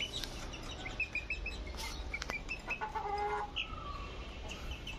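Farm chickens on a green rooftop clucking and chirping repeatedly at fairly close range, short uneven calls overlapping against a quiet background, with no speech.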